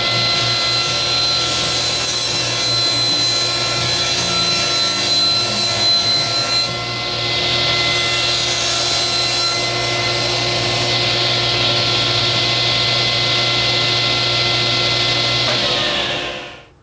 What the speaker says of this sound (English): we're going to be cutting it to a dimension of 4 1/8 by